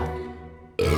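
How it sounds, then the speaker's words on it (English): A short burp after chugging a fizzy Lambrusco Spritz, one close, loud, croaky belch that fades, followed by a sudden burst of other noise. "I'm a little bit nervous to chug it because it's a lot of bubbles, so I might do a burp"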